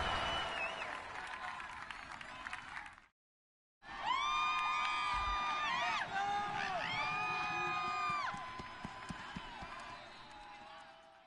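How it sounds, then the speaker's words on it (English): Stadium crowd at a Giants vs Falcons football game roars and cheers through a big fourth-quarter play, a loud sustained wash of voices with whistles and whoops, broken by a brief silent gap before swelling again. "One of the bigger plays in the game thus far, and the crowd getting into it"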